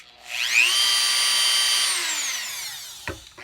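A Dremel rotary tool cuts into a cigar box guitar with a high, steady whine that ramps up, holds, then winds down, followed by a short knock.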